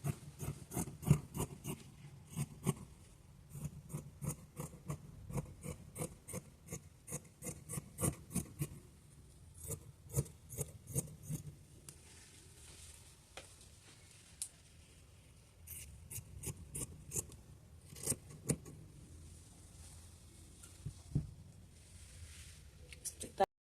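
Scissors cut fabric for the back piece of a wrap top, with a run of crisp snips and rustling cloth at close range, broken by short pauses and light handling.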